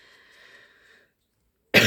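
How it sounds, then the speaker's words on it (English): A faint, thin tone fades into near silence, then a single loud, close cough bursts out at the very end. "Yeah, I still got a cough sometimes."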